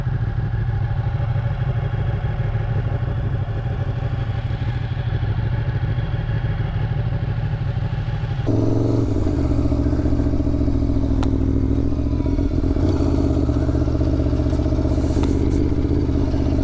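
A 2020 Aprilia Tuono V4 1100 Factory motorcycle is ridden. Its engine drones steadily and close, mixed with heavy wind rush, then changes tone partway through as the rider shifts or changes pace.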